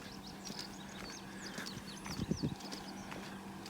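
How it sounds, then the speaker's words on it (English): Horses in a field beside a road in Arkansas, with cows nearby: birds chirp steadily while a few soft, low animal snorts or hoof thuds come close together near the end. "Horses and cows."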